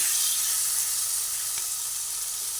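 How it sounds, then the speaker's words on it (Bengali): Sliced okra fries in a pan, a steady hiss of sizzling oil filling the moment, close and continuous with no voices. "ভালোভাবে নাড়াচাড়া করে করে ভেজে নিলাম"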